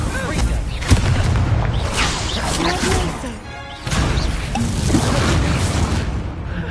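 Incendio fire spell cast during combat in the video game Hogwarts Legacy, a loud, dense whoosh of flame with booming, crashing impacts layered over game music and voices.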